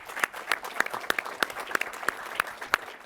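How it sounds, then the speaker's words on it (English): Conference audience claps in a brief, even burst of applause, individual hand claps distinct and rhythmic, fairly close, with no one speaking over it. "Let's give a round of applause for Southwest Switch."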